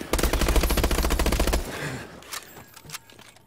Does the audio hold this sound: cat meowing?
no